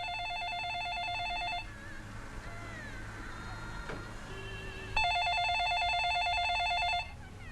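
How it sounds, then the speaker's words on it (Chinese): An indoor telephone rings with two bursts of electronic bell trills at a moderate, slightly distant level. A quieter stretch of room sound fills the gap between them. "不用接，肯定又是那个电话，让他响去"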